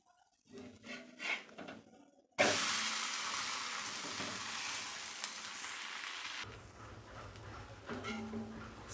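Sorghum flour onion dosa with oil, hissing and sizzling loudly on a hot pan; the sizzle starts abruptly and holds steady for several seconds before dropping back to quieter kitchen clatter.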